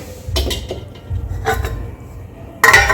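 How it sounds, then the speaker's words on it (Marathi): A metal lid is set on a pot of cooking masale bhat, spiced rice with coriander, with a few clinking metallic knocks and a final louder clatter, no talking. "झाकण झाकून देत आहे"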